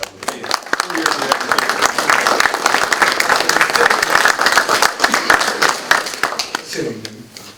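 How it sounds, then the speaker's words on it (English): A crowd at a youth mentoring program event applauds two young brothers admitted to a scholarship program, steady and loud clapping sustained throughout, with a voice briefly emerging at the end. "We'd like you all to join me in welcoming and giving a round of applause to these two young brothers who've gotten into a prestigious scholars program."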